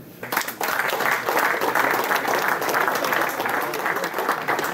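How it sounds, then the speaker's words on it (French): Guests at a Still-Mutzig football club anniversary celebration applaud two Racing Club de Strasbourg former players, a crowd's clapping that swells in quickly after a short lull and stays full and steady. "Ils sont là, on peut les applaudir."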